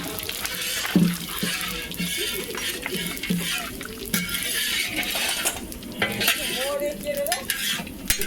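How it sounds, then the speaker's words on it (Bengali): Spices and panch phoron frying in a pan, a steady crackling sizzle with occasional stirring and utensil scrapes close by, and a person's voice briefly heard over it. "কি সুন্দর মশলাগুলো ভাজা হচ্ছে দেখো"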